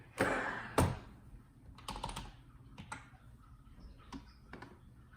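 A computer keyboard being pulled out and typed on nearby, with a couple of louder knocks as it is set down, then scattered, sparse key taps in a quiet room.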